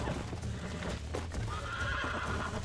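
A horse neighs and snorts over thudding hooves as it bucks while being broken in, in the Red Dead Redemption video game, close and loud with no speech.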